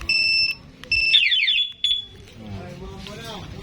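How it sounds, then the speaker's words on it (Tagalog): A restored scooter's anti-theft alarm blares close and loud in repeated electronic beeping bursts with a rising warble, then cuts off, leaving people talking in the background. "saka siya mag-a-alarm"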